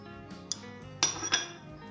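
A few sharp clinks of a utensil against a bowl as three eggs are beaten with salt, red chilli and black pepper for a potato omelette, close and fairly quiet with short gaps between strikes.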